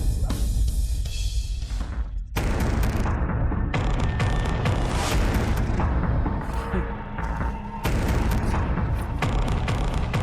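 Gunfire sound effects in a dramatized action fight scene: dense, loud booming bursts and rapid shots rolling continuously, with a brief drop near the start before the barrage resumes, under a faint voice.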